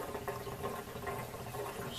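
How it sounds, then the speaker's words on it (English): Water drains steadily from a home water heater opened through its spring-loaded pressure relief valve, with air rushing and gurgling inside the tank as a continuous quiet splashy wash. "you'll hear the air rushing into the water heater, and the water will start draining out at a pretty rapid rate"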